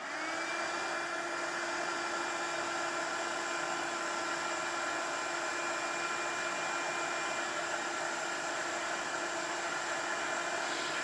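A heat tool or hair dryer blows steadily at close range, drying spritzed colour ink on a paper card, a constant whooshing hum with no talk.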